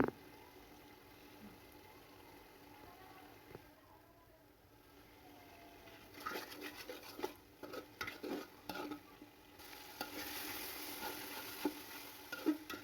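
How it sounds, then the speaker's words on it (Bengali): Blended spices with ginger being stirred and fried for chicken biryani, a faint sizzle with clusters of scraping stirring strokes in the second half, quiet and close. "তো এগুলোকে ভালো করে নেড়ে চেড়ে কষিয়ে নিচ্ছি"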